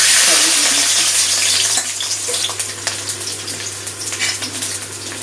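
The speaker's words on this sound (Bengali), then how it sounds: "রসুন আর কাঁচা লঙ্কাটা একটু তেলে ভেজে নেবো" A loud, steady sizzle of garlic and green chillies frying in hot oil, fading slightly and then continuing with scattered crackles and pops.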